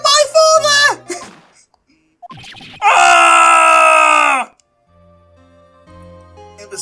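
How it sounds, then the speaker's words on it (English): A man screams in the Phoenix Wright: Ace Attorney game as Von Karma, in a long loud sustained cry after short shouted voices, then quiet game ticking and music. "It was Von Karma that screamed."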